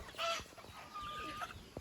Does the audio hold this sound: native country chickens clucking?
yes